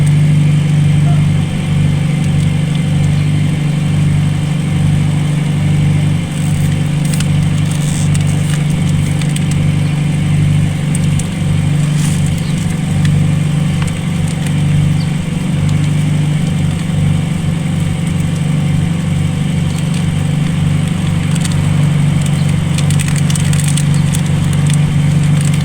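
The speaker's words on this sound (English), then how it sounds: "Let's see if the engine sounds different." A VW Polo Classic engine with an unstable, fluctuating idle runs steadily and continuously at close range, with a low rumble and faint rhythmic pulsing throughout.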